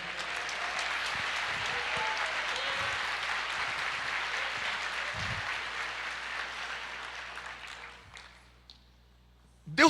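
A church congregation claps steadily and fairly loudly for several seconds. The applause thins and fades out near the end, and a voice briefly returns at the close.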